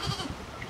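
A little goat on a Spanish farm gives a short, close bleat, a brief nasal cry lasting under a second.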